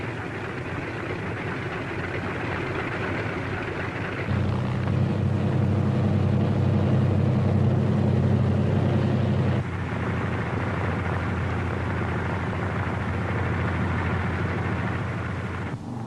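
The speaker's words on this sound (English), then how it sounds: "other C-47s move into position for their takeoff at the head of the runway" Several C-47 transport planes taxi into position and take off from a runway at the start of the Normandy D-Day invasion, a steady loud piston-engine drone that swells into a deeper, heavier roar for a few seconds before easing back.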